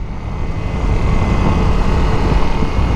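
A 2019 Honda CRF 250L dirt bike on knobby tires rides along during a test ride, a loud, steady engine and wind drone that swells slightly after the first second.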